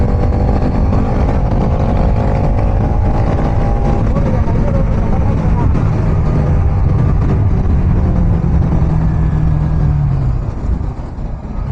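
A Yamaha RX100 motorcycle engine drones loud and close while being ridden, a steady rough two-stroke roar that holds at constant level for several seconds before easing off slightly at the end.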